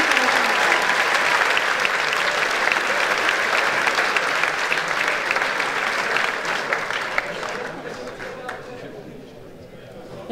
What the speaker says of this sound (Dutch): Groot applaus voor deze drie jongeren.